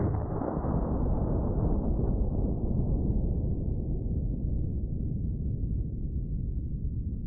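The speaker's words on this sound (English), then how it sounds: "Looks like the 5-gallon water jug's kappa was detated. Just completely took the top off of that thing." A gunshot bursts a 5-gallon water jug, leaving a broad, fading roar and spray of water that slowly decays over several seconds, heard at a distance with no voices.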